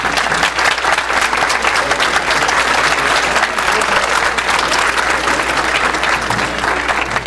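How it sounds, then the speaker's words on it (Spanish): A conference audience, after a talk on artificial intelligence, bursts into loud, dense applause that holds steady and sustained for several seconds, filling the room with a thick roar of clapping. "Pues damos un aplauso."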